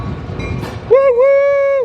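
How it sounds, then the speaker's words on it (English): Vintage train pulling out of the station at the Southwestern Rail Museum: a low rumble of movement, then a loud, sustained horn-like tone that holds for nearly a second before cutting off. "Train's pulling out of the station."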